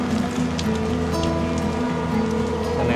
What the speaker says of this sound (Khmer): អូយភ្លៀងហើយតា